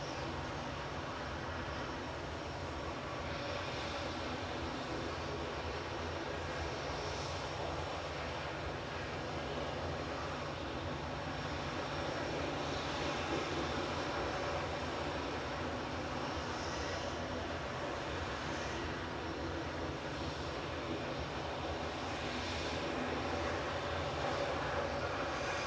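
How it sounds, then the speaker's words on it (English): Airbus A320neo jet engines spooling up for takeoff on the runway, a steady distant roar that swells gradually over the whole stretch, heard alone without talk. "A320neo. Lined up from Victor Delta. Just about to spool up."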